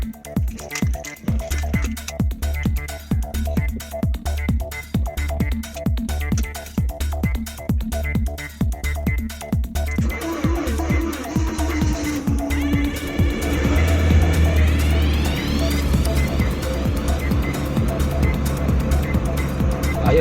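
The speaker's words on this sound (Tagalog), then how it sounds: "Paandarin muna natin at ating painitin." A new motorcycle engine starts, revving briefly before settling into a steady, loud idle as it warms up, close by with a constant low rumble throughout.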